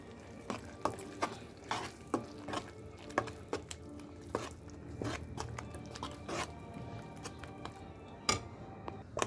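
Spoon scraping and stirring thick masala for brinjal kara kuzhambu in a pan, with irregular knocks and a soft sizzle underneath, close and steady with no talking.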